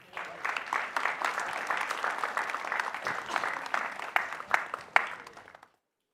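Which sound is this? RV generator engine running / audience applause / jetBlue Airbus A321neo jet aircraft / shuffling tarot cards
audience applause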